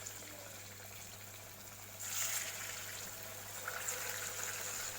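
Noodle potato cutlets drop into hot oil in a pan, a soft sizzle that rises abruptly about two seconds in and keeps up a faint, steady crackle.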